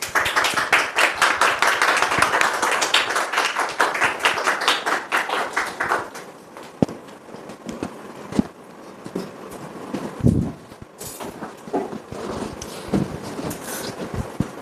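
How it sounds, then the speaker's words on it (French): Studio audience applause on a French television talk show, dense and steady for about six seconds before thinning into scattered claps, with voices and shuffling afterward. "Sous vos applaudissements, s'il vous plaît."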